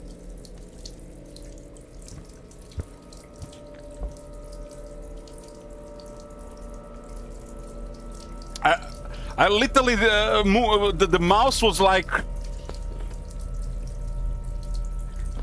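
A water tap runs steadily in the horror game Lost Luminosity, a soft constant hiss beneath a person talking, with a few louder bursts of voice midway.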